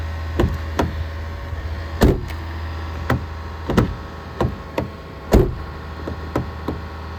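A 2024 Mazda CX-90 door is opened and shut several times, with sharp thuds and clunks spaced a second or so apart over a low engine hum.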